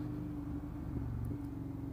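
An Indian FTR 1200 motorcycle set to sport mode rumbles steadily close by, a continuous low engine drone with no clear revving and no talking.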